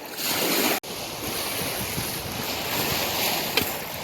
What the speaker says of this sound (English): Oh, that was a big splash.